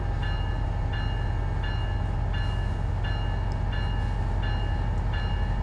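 Train horn in Train Sim World 5 sounds in repeated short blasts at a steady rhythm, loud over the constant rumble and rail noise of the moving train, with no talk.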